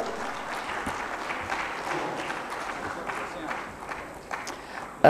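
Lukewarm applause from a management summit audience during an awards presentation, a thin, uneven patter of clapping that fades toward the end, with voices murmuring underneath.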